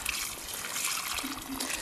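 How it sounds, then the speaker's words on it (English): Water poured out onto garden plants on a warm day, a steady close splashing trickle with broadband wash that holds fairly even throughout. "It's lovely, isn't it, the sound of water on a warm day."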